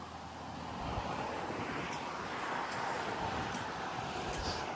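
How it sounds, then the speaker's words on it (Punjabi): Steady broadband rushing of wind, loud and constant throughout, with no voices, beside a Trans-Canada Highway road through a national park. "ਹਵਾ ਚੱਲਦੀ ਰਹਿਣੀ ਹੈ ਜੀ"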